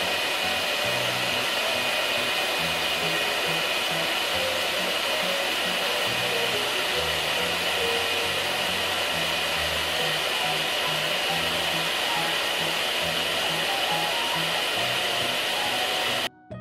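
A hair dryer blows steadily on a doll's hair at a Barbie toy salon, a loud, even whirring drone that runs unbroken for about sixteen seconds before cutting off, with no voices.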